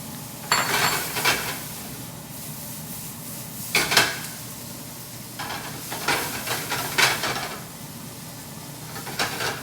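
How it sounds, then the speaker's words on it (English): Vegetables go into a hot pan with cumin, paprika and chili powder, a soft sizzle under repeated scraping and clinking stirring strokes, close, in bursts without talk. "We're going to add the vegetables in."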